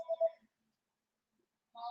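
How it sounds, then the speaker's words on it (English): A telephone rings twice in a quiet room, with short electronic tones separated by a long silence. "Got a little phone ringing here that we need to stop."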